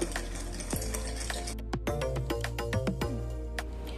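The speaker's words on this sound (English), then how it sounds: "We'll give this a mix and just dissolve all the granules of sugar." A spoon stirs sugar into milk in a bowl, tapping and scraping the sides with bright ringing clinks and a soft swishing underneath, close and steady, with no talking.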